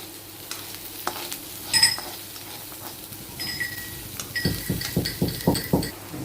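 Garlic frying in a pan for a white cream pasta, with faint sizzling broken by metallic clinks and a run of rhythmic knocking thumps near the end.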